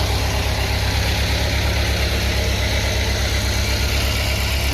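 A GEHL 4615 skid steer engine runs steadily, with a loud, constant low throb and rumble that is close by and uninterrupted throughout.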